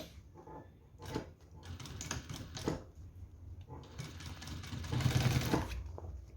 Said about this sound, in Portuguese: E vou passar uma costura em cima dessa marca.